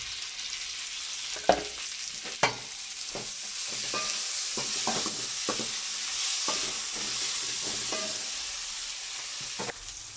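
Tomato and green chilies fry with golden-brown onion in a pan for a kurma, giving a steady, close sizzle. A few sharp knocks and clinks of stirring cut through it.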